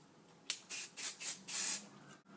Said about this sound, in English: Give light little teeny sprays.